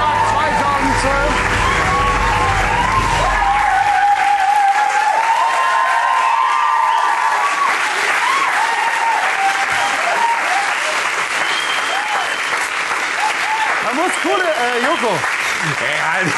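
A German TV show's studio audience breaks into loud, sustained applause that fills the room, with some crowd noise and a low rumble early on, keeping up steadily throughout.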